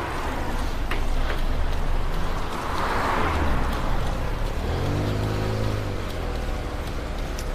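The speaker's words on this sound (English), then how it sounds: "There's always traffic here." New York City street traffic, a steady roar of passing cars and engine rumble with a rising vehicle drone near the end, continuous and fairly close with no voices.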